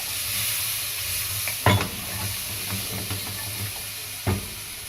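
Vegetables sizzle and fry steadily in a pan for basmati rice with peas and carrots, with a continuous hiss, soft stirring scrapes and a couple of sharper clinks partway through.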